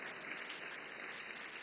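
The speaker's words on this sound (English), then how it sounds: "Yeah, you can clap." Audience applause at the Waves Summit in India, a steady dense wash of many hands clapping at once, moderately distant and continuous throughout with no voices over it.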